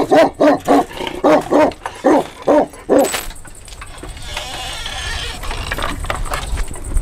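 A Kangal dog on a farm barks rapidly about ten times in a steady run, loud and close, then the barking stops, leaving rustling outdoor background noise.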